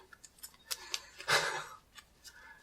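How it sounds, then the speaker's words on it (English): Magic: The Gathering cards being shuffled during a tabletop match, heard as a string of light ticking flicks and one brief riffling burst, close and fairly quiet, with no talking. "And I'm shuffling. Every day I'm shuffling."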